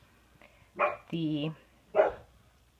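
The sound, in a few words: dog barking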